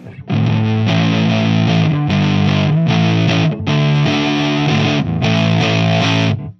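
An electric guitar runs through an EHX Big Muff distortion pedal with the sustain turned lower, playing a loud, thick, fuzzy run of sustained chords in several bursts with brief gaps between them and no talk.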